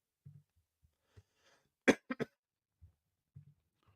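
A single burst of coughing, two or three harsh hacks in quick succession, close to the mic, surrounded by quiet thumps and near silence.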